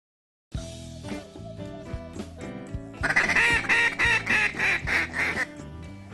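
A hunter blows duck calls that imitate duck vocalizations, first in spaced single quacks and then in a loud, rapid run of honking quacks, close and alone with no talk.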